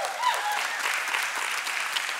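A church audience applauds, a dense, even wash of clapping from many hands that carries steadily throughout without a break.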